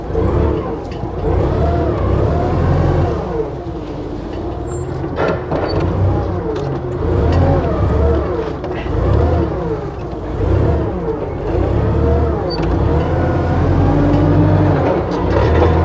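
A loud Clark forklift engine idles and revs repeatedly with a rising and falling drone, steady mechanical rumble throughout and no talking.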